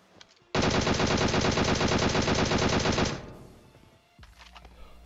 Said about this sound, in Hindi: इतने में ही आगे गोलियां चलती हैं